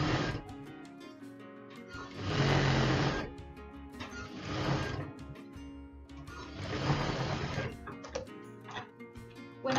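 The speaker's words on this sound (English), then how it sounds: "I am just going to be folding over an inch and stitching that down flat." A sewing machine stitches down a folded one-inch hem on non-woven bag fabric, running in three loud bursts of whirring stitches separated by quieter pauses with light ticking and handling.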